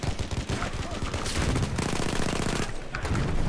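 Rapid gunfire in the World War I shooter game Battlefield 1, a loud, dense burst of overlapping shots and automatic fire running continuously through the clip with no talking.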